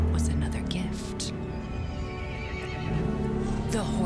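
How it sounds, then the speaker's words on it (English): A horse in Resident Evil Village neighs loudly with a shrill, drawn-out whinny, layered over dense game ambience with a low rumble and faint clip-clop. A voice speaks quietly through it. "The horse grew angry and summoned the other monsters."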